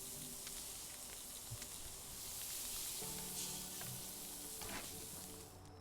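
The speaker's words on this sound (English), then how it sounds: "And that food sizzling sounds amazing too." Food sizzling in a pan while cooking in the medieval survival game Medieval Dynasty, a steady close hiss and crackle that holds for several seconds with no talk.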